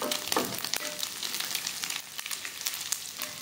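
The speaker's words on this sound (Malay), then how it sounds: "kita goreng ikan bilis ni sampai garing" Anchovies frying in oil with chilies until crispy, a steady crackling sizzle with bursts of popping and occasional stirring, close and moderately quiet, with no talk.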